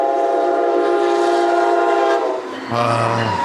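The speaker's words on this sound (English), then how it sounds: "Here comes the train." A train passes close by, its loud sustained horn blaring with layered tones for over two seconds, then giving way to rumbling wheels and rail clatter as the cars roll past.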